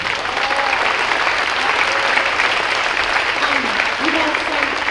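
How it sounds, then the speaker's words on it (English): Sustained applause from the audience at a high school spring pops concert, a dense steady wash of clapping with faint voices mixed in throughout. "Would you give them a round of applause, please?"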